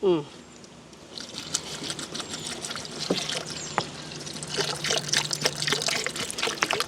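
Garlic, ginger, onions and green chillies being washed in water in a village kitchen, with light splashing and trickling, scattered clinks and rustles, a person speaking faintly in the background.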